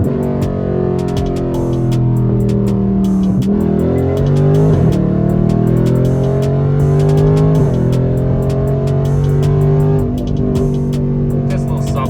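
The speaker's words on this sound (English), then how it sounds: "Some pulls on E85. We'll go ahead and do a little 40 roll" A 2021 widebody Dodge Charger Scat Pack 392 running E85 flex fuel accelerates hard from a 40 mph roll, loud engine pitch climbing through gear shifts with brief drops, heard close from inside the car.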